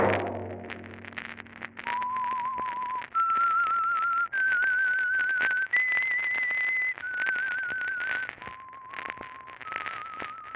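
A lone person whistles a slow, eerie tune of long held notes that step up and back down, sounding clear and close with the thin, narrow tone of an old radio broadcast.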